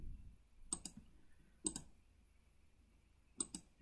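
Sharp mouse clicks at a computer running a CAD drawing program, arriving in three quiet pairs of quick double clicks spaced a second or more apart, close and dry against near silence.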